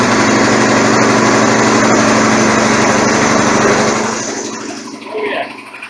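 A Mountfield ride-on mower engine runs loud and close with a steady high-pitched drone after a transmission drivebelt replacement, then winds down and fades near the end, with a voice speaking briefly over it.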